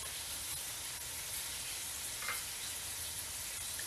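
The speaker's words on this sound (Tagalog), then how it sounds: "Simmer lang natin ito yung ating chicken hanggang sa mag-golden brown" Chicken pieces simmering and frying in a pan until golden brown, a steady close sizzle and crackle running evenly throughout with no talk.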